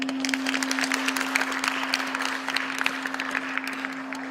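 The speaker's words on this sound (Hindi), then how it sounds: "आप सब एक बार उनके लिए तालियां बजा दें" An audience at a college event claps together, a fairly soft, steady patter of many hands with scattered sharper claps, heard alone over a constant electrical hum.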